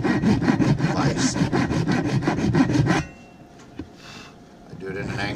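A hand saw cuts an angled slot into a wooden oblique pen holder flange clamped in a vise, fast rhythmic close strokes that stop abruptly, followed by quieter handling noises.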